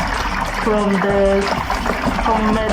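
Water poured into a bucket while mixing a homemade jik bleach solution, a steady trickling and splashing stream running continuously beneath a person talking throughout.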